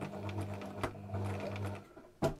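Sewing machine satin stitching around the raw edges of a fabric gift label, a steady close whirring hum running in bursts with a brief pause and a sharp restart near the end, no talking.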